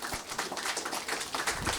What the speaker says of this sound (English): can we one more time give a round of applause for our panel speakers?